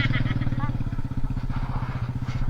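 A motorcycle rides along a narrow mountain path, its engine holding a steady, low, throbbing drone up close while a person talks over it.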